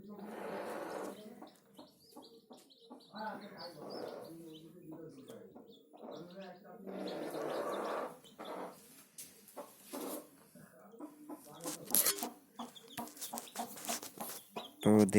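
A native hen clucks softly among newly hatched chicks that chirp in thin, repeated peeps, close by and intermittent, with a person talking over parts of it.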